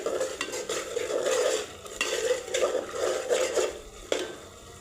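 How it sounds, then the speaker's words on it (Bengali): Spice paste for a bottle-gourd meat curry fries in a pan while being stirred, with repeated scraping strokes over a soft sizzle and occasional utensil clinks, close and fairly quiet. "এবার আমি ভালো করে মশলাটা কষিয়ে নিব"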